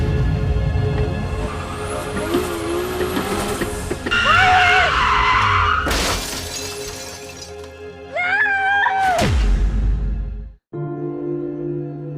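A car with failed brakes skids with loud tire squeal, its engine roaring, then ends in a crashing, shattering impact before a sudden drop to quiet.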